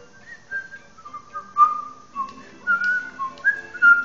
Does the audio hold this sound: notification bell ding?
no